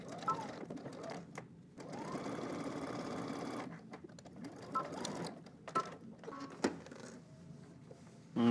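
A domestic sewing machine runs in bursts while stitching a garment facing, backstitching at the start and end, with short pauses between runs and a voice talking over parts of it.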